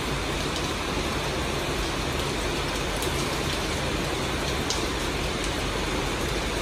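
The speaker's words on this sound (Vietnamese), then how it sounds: "Mưa quá." Heavy rain pours steadily on a rural Vietnamese roadside where a truck is being loaded with plastic water tanks, making a dense, even hiss with no pauses and no voices.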